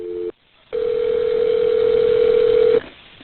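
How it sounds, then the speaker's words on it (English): A single steady telephone tone sounds loud and close for about two seconds after a brief clipped beep and a short gap, then cuts off cleanly, heard alone without talk. "she made a separate phone call to a sergeant with the Dallas Police Department named Kevin Mansell."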